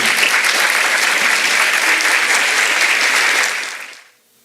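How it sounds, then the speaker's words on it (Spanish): Strong applause from a seminar audience greets a female professor taking the floor at an international education conference, a dense steady clapping wash lasting about four seconds before fading out abruptly. "Vamos a recibir con fuerte aplauso a la profesora doctora Rosa María Rodríguez Izquierdo."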